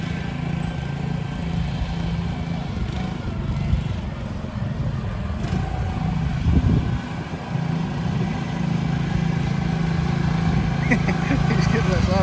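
A PermaGreen ride-on lawn sprayer runs steadily on a sidewalk, its small engine droning continuously at close range while a voice talks over it.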